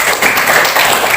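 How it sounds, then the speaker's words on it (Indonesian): Seventh-grade students in a classroom applauding a group presentation, a short dense burst of hand clapping, loud and close, with no talk. "tepuk tangan untuk kelompok Papua"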